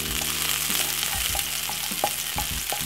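Garlic sizzles steadily in hot oil with a bright, continuous frying hiss, broken by several soft clicks and scrapes from stirring in the pan.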